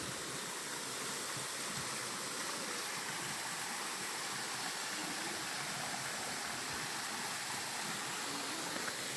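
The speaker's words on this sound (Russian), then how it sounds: "Вот такой вот водопад." A waterfall in a Thai national park roars continuously, a dense, broad rush of falling water heard steadily with no pauses or voices.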